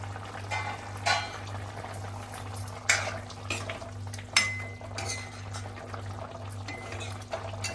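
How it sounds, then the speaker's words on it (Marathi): A pan of cowpea vegetable curry bubbles and simmers steadily on medium gas, with soft popping and occasional louder bursts over a low constant hum. "भाजी आपली चांगली उकळते बघा"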